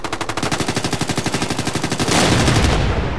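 Automatic weapon fire in the tactical shooter video game Ghost Recon rattles in a rapid, evenly spaced burst of loud shots, then gives way to a louder, denser roar of sustained gunfire, with no voices.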